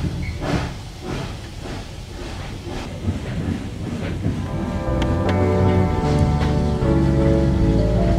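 A train passes on a steam railway, a rumbling, clattering approach that builds into a loud, steady roar with tonal hum in the second half.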